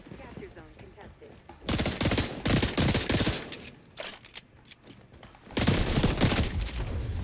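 Rapid bursts of automatic gunfire from an XDefiant match on the Rockefeller map, loud and close, coming in dense volleys with brief lulls between them.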